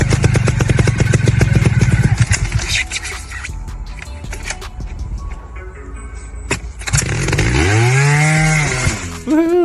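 2020 Beta Evo 2T Factory Edition two-stroke trials motorcycle revving loudly and buzzing close by, dropping off briefly, then kicked back to life with rising and falling revs as it rides away.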